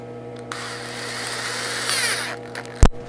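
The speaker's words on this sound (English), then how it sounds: "this one here, it's just like a wire brush. And then I have this other one here. I'm gonna try this one first." A standard electric drill fitted with a wire brush attachment, used in repairing a Sega OutRun arcade machine, whirs steadily for about two seconds with a scratchy brushing edge and then stops. A sharp clatter follows near the end.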